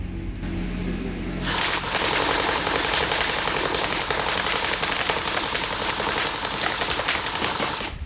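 An AK47 Cybergun airsoft rifle firing 6mm BBs on full auto, a loud, dense, rapid rattle of shots that starts after a quieter moment and runs without a break for several seconds.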